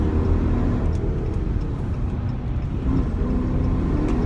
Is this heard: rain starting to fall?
no